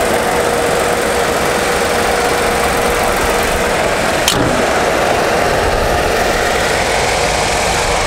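Honda N-Box kei car engine running at a steady idle, a continuous even hum with a faint knock, close and fairly loud, no talk over it.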